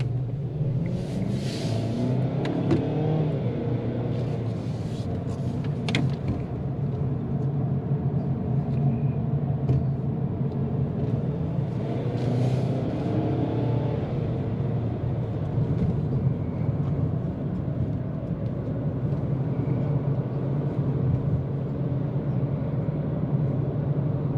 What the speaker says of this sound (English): Take a listen to how the Maverick sort of reacts and behaves as we get through these twisties